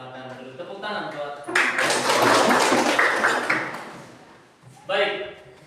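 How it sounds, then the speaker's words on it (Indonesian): A group of children in a classroom gives a short burst of applause, loud and dense for a few seconds before fading, with a teacher's voice before and after. "silakan dulu tepuk tangan buat"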